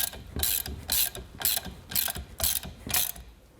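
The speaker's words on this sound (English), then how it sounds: "grab our 3/4 wrench, put it on the one side, and our socket on the other" A ratchet wrench and socket tighten a nut on a Grizzly/Shop Fox knife modification kit, giving six loud, evenly spaced bursts of rapid clicking with short pauses between strokes.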